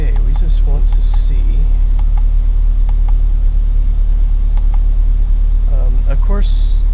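An old car engine idles with a strong, constant low hum and steady rumble, loud and close, while scattered clicks and brief bursts of noise sit over it and speech is faintly mixed in.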